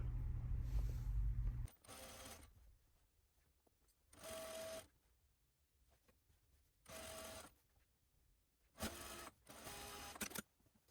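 An overlock sewing machine stitches a seam in four separate bursts of loud, rapid whirring. Short quiet gaps fall between the bursts, and no one speaks while it runs.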